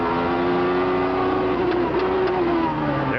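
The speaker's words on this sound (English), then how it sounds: "The sound of Brundle's V8. It's a Judd engine based on a Honda block" A Judd V8 racing engine based on a Honda block drones at high revs in a 1989 Brabham Formula 1 car, steady and loud with a rising pitch near the end, heard from close by.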